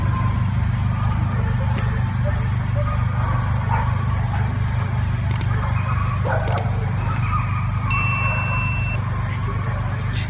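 A dog on a walk gives a couple of short barks over a steady low rumble, with a few metallic dings nearby.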